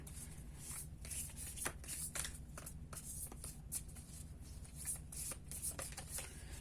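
A lover's oracle card deck being shuffled by hand, with a steady run of soft riffling and flicking card sounds, close and continuous, over a low background hum.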